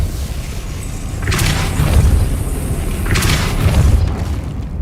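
Depulso force spell cast in Hogwarts Legacy, heard as two heavy booming blasts with a whooshing burst, the first at about one second and the second near three seconds, each rumbling away over a steady low background.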